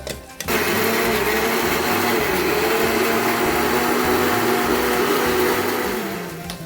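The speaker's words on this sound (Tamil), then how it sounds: "அந்த கேப்பில் இப்போ தக்காளியை நல்லா பேஸ்ட்டாக அரைச்சிக்குவோம்." A kitchen electric mixer grinder runs steadily at close range, grinding tomatoes into a paste for chilli chapati. The loud whirring motor drone starts abruptly, holds an even pitch and eases down slightly at the end.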